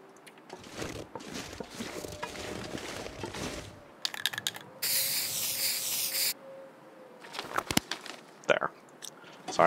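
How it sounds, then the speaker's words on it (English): A can of spray paint in The Long Dark gives one steady hiss lasting about a second and a half, set among quiet clicks and shuffling, with a voice nearby. "We will spray paint."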